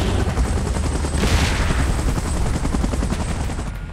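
Helicopter rotor chatter mixed with rapid, dense gunfire in the PUBG Mobile game, loud and continuous throughout with no pauses, one brief swell of noise partway through.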